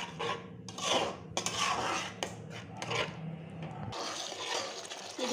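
A spoon scrapes and clinks against a pan while yogurt paste is stirred into potatoes, with repeated rubbing strokes and metallic taps, close and fairly loud, and a soft sizzle underneath.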